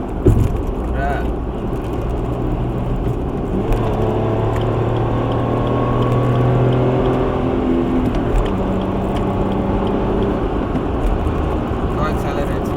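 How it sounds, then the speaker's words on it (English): A Suzuki S-Presso with a 1.0-litre three-cylinder K10C petrol engine accelerates, with a steady engine drone and rising tones heard from inside the cabin under heavy wind noise. "Car accelerates pretty well."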